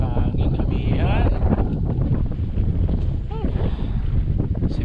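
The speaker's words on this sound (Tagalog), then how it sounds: "Grabe naman yung hangin amihan." Strong northeast monsoon wind buffets the microphone in a constant roar, with voices talking underneath the gusty rumble.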